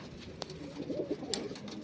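Pigeons coo softly in short throaty bursts while being fed makhni, close by and fairly faint, with a couple of sharp clicks or knocks mixed in.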